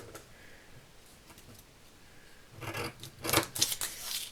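Scissors snip pieces from a paper pad, cutting them to 6 cm, with a quiet stretch first and then a quick run of crisp, close cuts.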